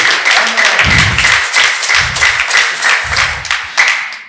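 Loud congregational applause in a church service, many hands clapping in a dense, energetic wash, punctuated by deep rhythmic thumps that suggest a drum or stomping beat underneath.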